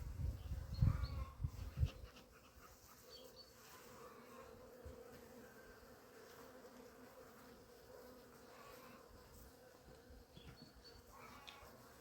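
Honeybees hum in an opened hive in spring as frames are checked, a soft continuous buzz with a few close thumps and handling bumps at the start.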